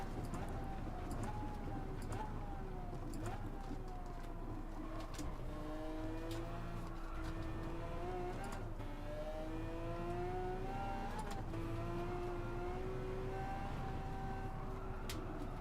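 A Lamborghini Aventador race car in a racing game at Road Atlanta drones steadily as its engine pitch climbs, dips at each shift and climbs again, with faint clicks and other cars in the background.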